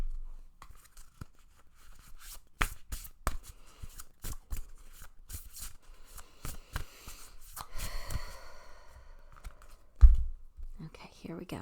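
Tarot cards being shuffled, a rapid series of crisp riffling slaps and flutters close up, with a soft thump near the end and no talking.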